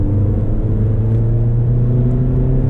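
A 2015 Mercedes-Benz CLA 45 AMG with its turbocharged four-cylinder engine accelerating in comfort mode, giving a steady, loud, continuous low engine drone and rumble heard from inside the cabin, with no talking.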